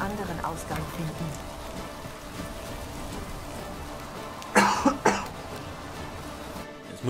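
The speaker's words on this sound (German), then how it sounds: "Jetzt muss ich direkt selber husten." A couple of sharp coughs, close and loud, break in after a stretch of quiet game ambience with rain-like patter and a low background murmur, from a player of Witcher 3 Hearts of Stone.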